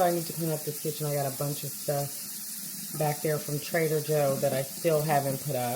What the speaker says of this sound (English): That's just my water running.